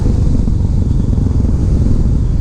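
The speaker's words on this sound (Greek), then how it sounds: "η συγκεκριμένη μηχανή είναι ένα Yamaha XT600E του 2001" A 2001 Yamaha XT600E single-cylinder air-cooled motorcycle engine rumbles loud and close, a dense steady low thrum with no other sounds.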